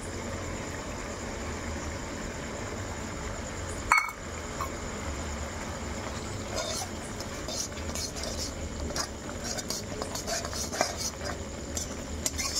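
Turmeric, coriander and cumin powder stirred and sautéed in oil in a pan for a Bengali chicken and potato curry: steady close sizzling with spoon scraping throughout and one sharp metallic clatter early on.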